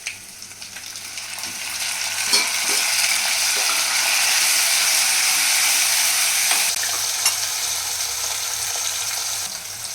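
Chopped tomatoes drop into hot oil with frying ginger and green chillies while cooking a moong sabzi, giving a loud, steady sizzle with a few scraping stirs, close up and with no talking.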